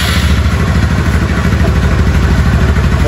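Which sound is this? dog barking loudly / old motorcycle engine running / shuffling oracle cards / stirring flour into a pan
old motorcycle engine running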